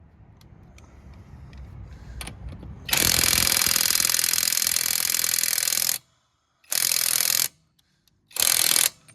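A cheap portable 1/2 inch impact driver hammers loudly against a lug nut in three bursts, one long run of about three seconds followed by two short ones, with faint mechanical clicks before it starts.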